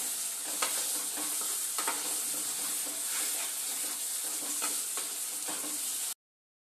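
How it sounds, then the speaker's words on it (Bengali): Spices with salt and turmeric fry and get stirred in oil for a fish-roe and banana-flower ghonto, giving a steady bright sizzle with repeated scraping strokes of a spoon at a close, even level, no voices. "সব মশলাকে খুব সুন্দরভাবে এবার কষিয়ে নেব যত সময় না মশলার থেকে তেল ছাড়ে"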